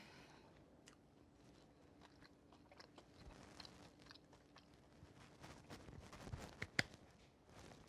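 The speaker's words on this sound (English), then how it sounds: "I just got the perfect bite of walnut and cranberry and sausage in a crispy little crunch." A quiet, close crunchy bite and chewing of a crispy fried leftover stuffing croquette filled with walnut, cranberry and sausage, with no talking.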